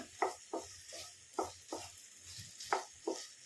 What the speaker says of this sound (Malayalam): ഇനി ഇത് പതുക്കെ ഫ്രൈ ആയിട്ട് വരട്ടെ ഇവിടെ കിടന്ന് ഇടയ്ക്കിടയ്ക്ക് ഇളക്കി കൊടുക്കുകയും വേണം